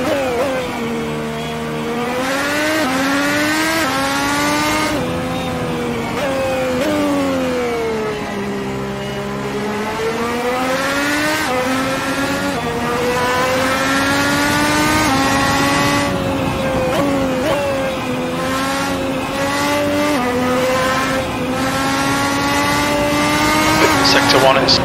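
The Red Bull X2010 race car in Gran Turismo, played in VR, howls continuously as its engine revs rise and fall through gear shifts and corners, loud and near throughout.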